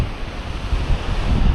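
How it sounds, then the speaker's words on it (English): Ocean waves and surf breaking along the rocky Big Sur coast of California, a steady loud roar of churning water mixed with gusty wind buffeting the microphone, with no voices. "The waves are probably insane."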